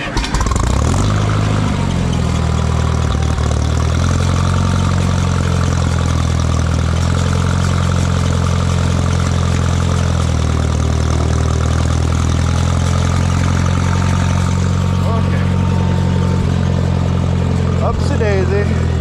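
A small gas engine starts up and settles into a loud, steady idle close by, humming on for the whole stretch, with a brief voice near the end.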